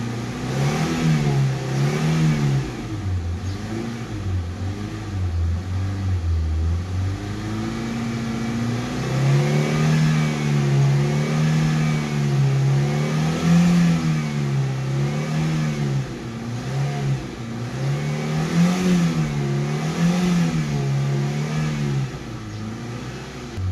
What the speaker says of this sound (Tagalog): Painitin lang muna natin ang makina.